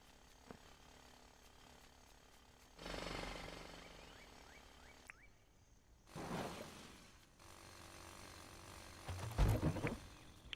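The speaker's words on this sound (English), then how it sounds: "we've got a few more things to jackhammer" A jackhammer in the Dinkum video game rattles in several separate mechanical bursts of a few seconds each, with quieter gaps and a sharper knock near the end, and no talk.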